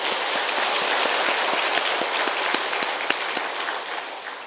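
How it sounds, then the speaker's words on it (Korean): A church congregation at a Wednesday worship service applauding in thanks after a sermon, loud and sustained clapping from many hands that stays strong before easing off slightly at the end. "우리 감사의 박수 하겠습니다"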